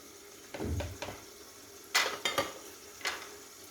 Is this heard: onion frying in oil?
yes